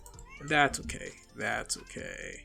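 A cat meows indoors, giving two or three short, clear calls close to the microphone while a person speaks briefly between them.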